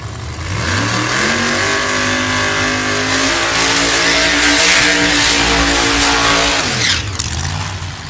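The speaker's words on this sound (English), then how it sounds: "We'll start with a couple of big old bad old blower cars." Pro Modified drag race cars with superchargers poking out of the hood rev loudly at a Mission Foods drag racing event during first-round qualifying. The engines give a sustained, heavy roar, rising and holding before dropping off, with no talking.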